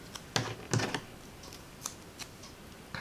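Foam tape snipped into small pieces with scissors, heard as a few soft, close, crisp cutting clicks spaced apart in a quiet room, with no talking.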